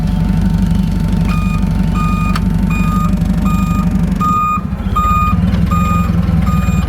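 A propane-powered Komatsu FG25 forklift with a Nissan engine backs up, giving a steady series of loud, high reversing beeps over the close, constant rumble of its idling engine, with no speech.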